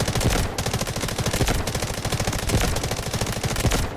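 Rapid full-auto M4A1 rifle fire in Delta Force, a loud, close, continuous stream of sharp evenly spaced shots with a brief pause, heard alone without talking.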